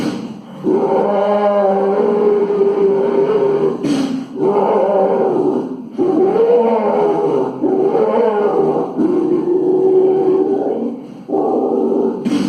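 A man vocally imitates a dinosaur roar in a mimicry act, producing long, loud, rasping growls in several sustained bursts with brief pauses between them, alone and without talk.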